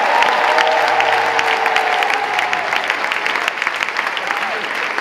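A church congregation applauds during a live service, a dense, steady wash of clapping mixed with voices and tones that fades slightly toward the end.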